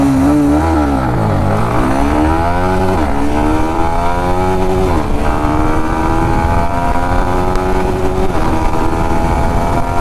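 A Yamaha MT-15 motorcycle accelerates hard in a speed test, its engine loud and close with rising revs and gear shifts sweeping up and down, steady and without talk.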